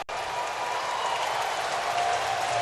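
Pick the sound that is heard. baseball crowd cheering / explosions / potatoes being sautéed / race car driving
baseball crowd cheering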